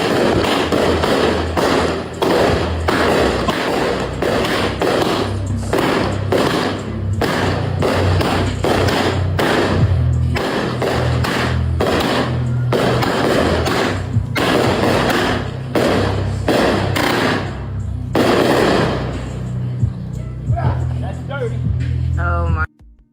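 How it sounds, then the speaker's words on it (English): Fireworks popping off outdoors during a Fourth of July celebration, a long run of loud thumping bangs and rapid crackling bursts, close and continuous, with talking over them. "So they out there having a good, glorious, good time, popping off the fireworks."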